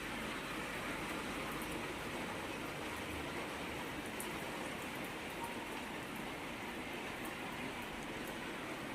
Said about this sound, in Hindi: ये देखिए कितनी तेज़ी से बारिश होने लगी है।